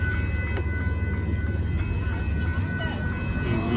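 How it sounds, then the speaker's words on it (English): A northbound Union Pacific intermodal freight train passes a road crossing in Austin, Texas, making a steady, loud rumble with faint bell-like ringing tones above it, continuous throughout. "There goes the northbound Union Pacific intermodal train with a mid-dip PU"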